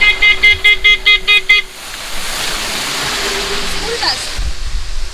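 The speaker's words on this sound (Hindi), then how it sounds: "गाड़ी आ रहा है।" A car honks as it approaches on a road on the route between Kodaikanal and Palani in Tamil Nadu. A quick burst of about seven loud, close horn toots gives way to a steady rushing roar of the passing vehicle.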